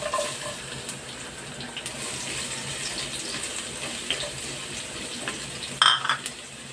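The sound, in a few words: garlic sizzling as added to hot cooking oil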